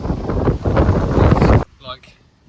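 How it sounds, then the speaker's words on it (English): Strong wind roars and buffets outside a camper van while wild camping in the UK, a steady loud rush that cuts off abruptly, followed by a brief faint sound. "It's really windy"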